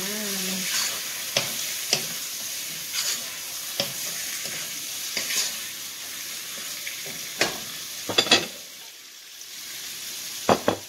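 Pork belly browning in a pan after garlic, onion and tomato are sautéed, giving a steady bright sizzle with intermittent sharp stirring clanks and scrapes, close up and without talk.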